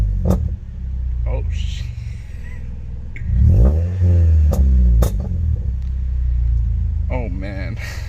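A freshly tuned Toyota Corolla engine rumbles close by and is revved in a couple of rising surges over a steady idle. A man briefly exclaims over it.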